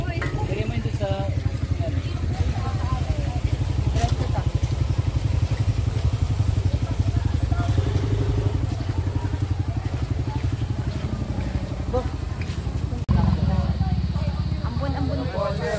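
A motorcycle engine idles with a steady, rough chugging throughout, near and loud, while people talk over it in the open outdoors.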